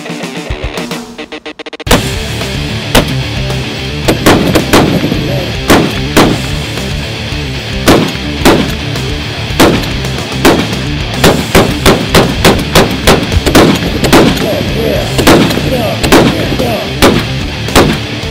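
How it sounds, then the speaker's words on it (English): A .50 caliber gun firing armor-piercing tracer rounds, a long series of loud, sharp booming shots at irregular intervals, close and powerful. "these armor-piercing tracers, U.S. Army issue, won't be as spectacular as nighttime. But you want to shoot a couple of these?"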